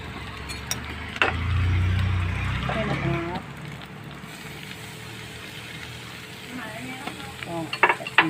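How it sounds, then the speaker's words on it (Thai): An egg fries in oil in a pan with a soft, close sizzle and a few stirring scrapes, heard under someone talking. "นี่นะคะคือ ไข่ที่จะทอดนะคะ"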